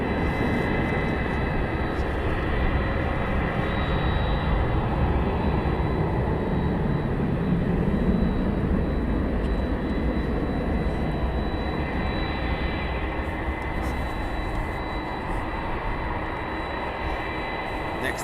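Aircraft at East Midlands Airport at night, giving a steady, continuous engine roar and rumble that holds at an even loudness throughout, with faint voices in the background.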